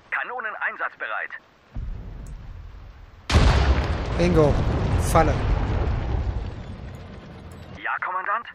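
A sudden heavy boom from cannon fire in the strategy game Sudden Strike 4 rolls into a long rumbling roar, with a German radio-like voice speaking before and after.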